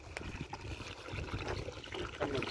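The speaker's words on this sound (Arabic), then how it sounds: "المي شلون يجري؟" Spring water running out from among rocks in the wild, a close, bubbling trickle with small splashes and gurgles that grows slightly fuller toward the end, with no speech.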